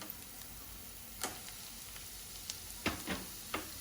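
Vegetables hit a hot pan with ginger and garlic, giving a faint, steady sizzle broken by a few sharp clicks and taps from stirring.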